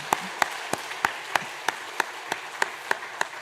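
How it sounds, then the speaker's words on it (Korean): A church congregation claps along in a steady, evenly spaced rhythm during a Sunday worship service, about eleven crisp claps in a row, fairly close and clear. "우리 박수 먼저 축복해 드리겠습니다."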